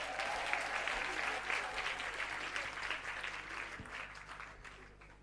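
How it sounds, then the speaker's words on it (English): Audience applause at an international indigenous languages decade launch event, honoring the muses after their performance; steady, moderately distant clapping fills the whole stretch and gradually tapers toward the end. "Round of applause for the muses."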